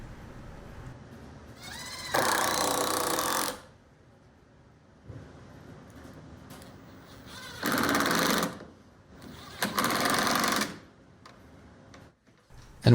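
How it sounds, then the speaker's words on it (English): A power drill or driver screws scrap wood blocks into a 2x4 workbench frame, with three loud whirring bursts of a second or two each, separated by quiet pauses and faint handling noises. "I'm just gluing and screwing these in place"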